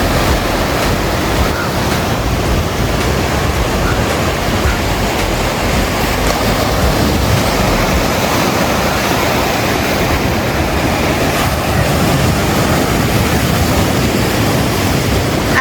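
Ocean waves at high tide on Cabo de Rama beach in Goa make a steady, loud, unbroken surf roar with wind mixed in and no voices.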